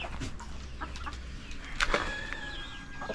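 Chickens and a rooster in a farm coop clucking softly in scattered calls over low background noise, with one brief sharper squawk in the middle and a thin high tone afterward.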